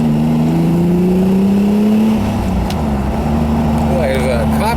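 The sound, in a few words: Ferrari Testarossa convertible driving on a test drive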